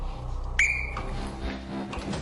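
A referee's whistle, one sharp blast that bends up and holds briefly over a busy, noisy room during a timed game, with chatter and music-like hum around it.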